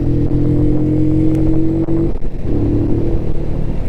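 A Klight motorcycle engine runs close by with a loud, steady, buzzing drone. It drops away briefly partway through, then picks back up.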